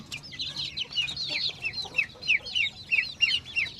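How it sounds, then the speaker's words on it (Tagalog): Chickens clucking and chattering continuously at close range, rapid overlapping calls in an irregular rhythm. "ano ito, manok to"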